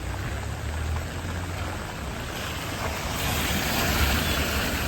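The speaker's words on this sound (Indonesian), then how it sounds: "Ini hujannya dari maghrib tadi, jam 6:30 sudah hujan ya." Heavy night rain on a city street in Banda Aceh, a dense, steady broadband hiss of falling water that grows slightly louder toward the end, with no voices.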